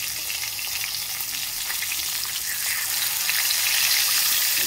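Fish frying in oil in a wok makes a loud, steady close sizzle that swells slightly toward the end, with no talk over it.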